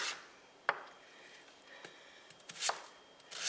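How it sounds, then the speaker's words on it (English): A knife chops vegetables such as carrots on a cutting board while preparing butternut squash and apple soup, a few sharp, close, irregular thuds separated by quiet pauses. "I'm just going to chop these"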